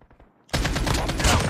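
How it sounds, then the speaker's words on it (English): Rapid automatic AK47 fire in the mobile shooter Call of Duty Mobile, a dense, loud burst that starts abruptly after a quiet moment and continues in a steady rattle. "this gun sounds like a machine, bro."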